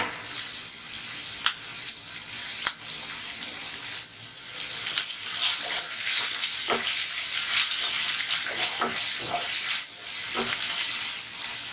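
Chinese cabbage and chicken sausages stir-fry in a hot pan, a loud, continuous sizzle broken by regular clacks and scrapes of a spatula tossing the mixture.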